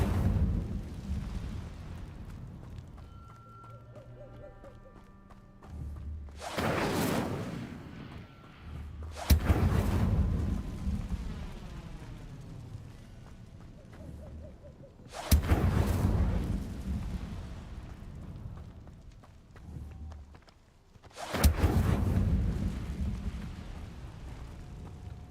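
Incendio fire spell from a game in which the player can turn evil: four loud, sudden booming bursts, each a broad whoosh that decays over a couple of seconds, spaced several seconds apart, over a low ambient game bed with no talk.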